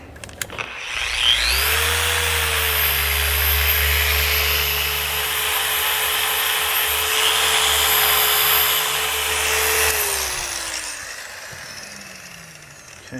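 Machine polisher with a pad working the paint of a hi-fi speaker, spinning up to a steady high whine that holds for about eight seconds and then winds down, with a low motor hum beneath.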